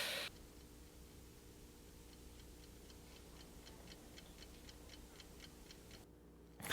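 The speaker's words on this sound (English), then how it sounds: "It's the sound of the ticking clock is just so odd to me." A clock ticks steadily and faintly in a hushed scene from the 1968 film Rosemary's Baby, its even, regular beats carrying alone over low room tone.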